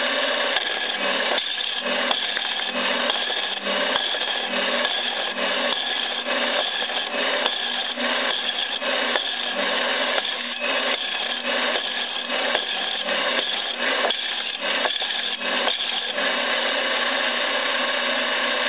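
A wood lathe spinning and trimming a workpiece as a steady, dense, raspy hum of cutting that continues without a break, with faint rhythmic variations as the tool moves along the wood.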